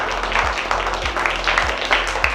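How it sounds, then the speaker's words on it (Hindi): Children clapping loudly together in a classroom, a close, fairly rhythmic run of claps over a low background hum. "सभी लोग ताली बजाइए तो जोर से"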